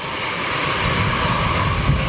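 A steady, loud engine roar from an Airbus A319 at Manchester Airport, heard from outside with some wind noise, continuous through the whole stretch.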